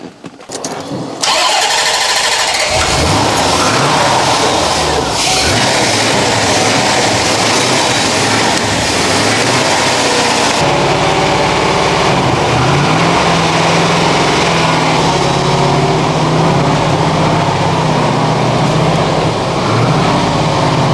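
A Corvette C4 ZR-1 barn-find engine cranks briefly, catches and fires up, then keeps running with a loud, steady idle rumble that continues throughout.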